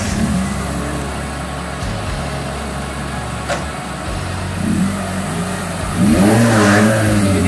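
A used car's engine cranks and fires up, settling into a low idle before revving loudly in a few rising bursts near the end, heard up close with no talking.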